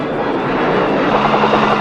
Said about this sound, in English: The jets rain bombs into the valley to neutralize the enemy there.